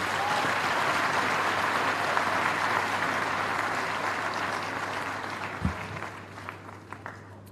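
A sustained round of applause fills a university convocation hall, dense and steady at first, then slowly thinning out to a few last claps over a low electrical hum.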